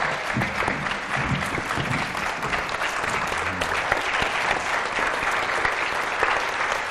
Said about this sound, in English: Please give a warm round of applause for our panelists and Dr. Naledi Pandor.